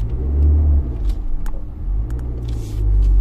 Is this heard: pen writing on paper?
no